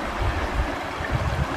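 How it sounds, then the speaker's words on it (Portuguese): Strong river rapids churning through a large forest along a river, a steady broadband rush of fast water with low rumbling surges, close and continuous with no voices. "Muito forte a corredeira, não dá pra brincar não."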